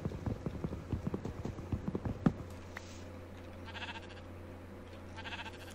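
Sheep bleating in a Minecraft-style SkyGrind skyblock game, with a quick run of clip-clop steps and thuds followed by a couple of short, faint bleats.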